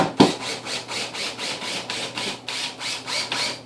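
A power drill drives a 4-inch sheetrock screw into a wooden header above a window, giving a rhythmic series of rasping, grinding pulses that repeat steadily for several seconds, fairly quiet and close, with no talking.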